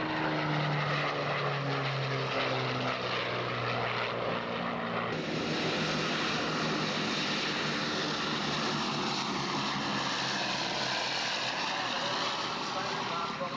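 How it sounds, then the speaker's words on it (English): World War II propeller warplanes fly overhead at the 1989 Rings of Eagles air show, a loud, sustained engine drone that shifts in pitch as the aircraft pass, heard alone without talk. "These airplanes were on display on the ground and in the air at the 1989 Rings of Eagles Air Show."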